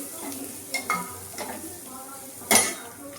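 Vegetables are stirred in a pan with turmeric, with light sizzling, soft scrapes and occasional metal clinks, including one sharp clank of a utensil against the pan.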